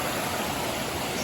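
A small mountain stream near Llyn Ogwen flows beside a bridge, giving a close, steady rushing and babbling of water without pause.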